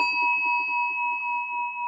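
A bell rings with a steady, sustained tone through the whole moment at the start of an evening mental mind treatment session, with soft low rhythmic sounds underneath.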